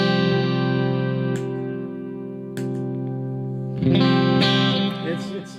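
Guitar chords ring through a compressor pedal that is switched on and off, with sustained strummed chords, sharp clicks and re-attacks as the effect toggles, close and clear without speech.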